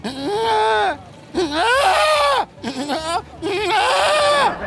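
A male goat bleats loudly several times at a livestock market, long wavering cries separated by short pauses, close by.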